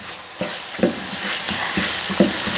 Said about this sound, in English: So I'll just mix it up, allow it simmer for just few more minutes